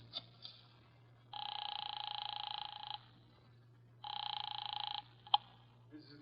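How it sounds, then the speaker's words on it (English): In an old radio drama, a telephone call goes through: two long buzzing ring tones separated by a pause, heard as if from the earpiece over a low steady hum, with a small click near the end. "phone and dialed Wolfe at once."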